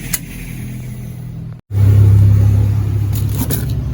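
An overheated electric fan motor with tape snagging inside runs with a loud, rough droning hum and scraping rattle; the noise cuts out briefly, then resumes louder and steadier.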